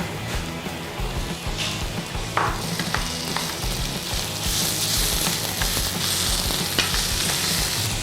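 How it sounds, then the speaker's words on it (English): Pork mince fries in a pan with finely chopped onion and garlic, a loud continuous sizzle broken by repeated scraping and stirring strokes. "we're gonna go in some pork mince next"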